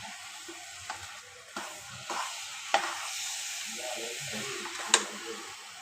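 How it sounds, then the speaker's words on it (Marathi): A halim (garden cress) seed ladoo mixture is stirred in a pan over the heat, with a soft continuous sizzle and occasional light scrapes and taps of the spoon close by. "छान हलवून घेऊया. एकजीव करूया."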